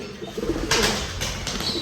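Low pigeon cooing close by, mixed with brief bursts of rustling or flapping noise.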